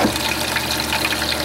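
Water gushes steadily from a wash spigot, a loud, close, continuous hiss and splash that runs the whole time without pause.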